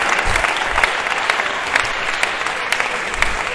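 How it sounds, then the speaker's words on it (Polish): A volleyball crowd at a men's Superliga match stands and applauds: dense, steady clapping fills the space throughout, with a few louder claps poking out of the even roar. "Publika właśnie stała i bije brawa."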